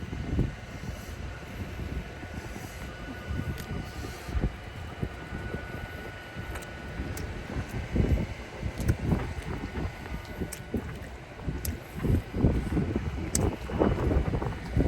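Cold, dry wind blows steadily outdoors as a broad, rushing noise with gusts and low rumbles, loud and continuous for the whole stretch, with no voices.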